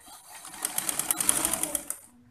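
Sewing machine stitching fabric for a pleated back skirt, a fast, even run of needle clicks and motor whir lasting about two seconds, loud and close, starting and stopping cleanly.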